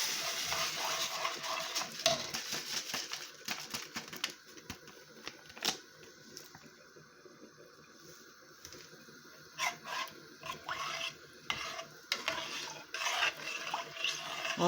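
A spoon stirs Jamaican yellow rice in a cooking pot with a pinch of salt, making repeated scraping and clinking strokes in an uneven rhythm, close and fairly quiet, with no voices.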